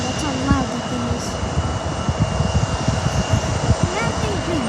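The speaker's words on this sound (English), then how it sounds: "I still hear the plane. That's how loud that thing is." A loud airliner roars near San Diego airport, its broad engine rumble rising and swelling steadily while people talk over it close by.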